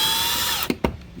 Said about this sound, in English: Now I'm going to use my power drill, tighten these back down